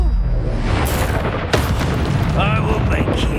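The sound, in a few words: Expelliarmus spell effect in Hogwarts Legacy video game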